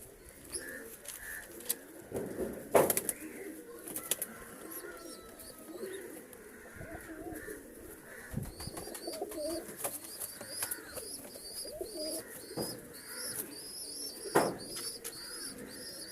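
Pigeons coo repeatedly in soft, rolling phrases, with chirps and scattered bird calls around them, moderately close amid light background noise and occasional faint voices.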